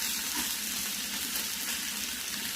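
Bacon sizzles in a pan on a non-electric, non-propane emergency stove, a soft, steady hiss of frying fat with light crackle, alone and fairly quiet.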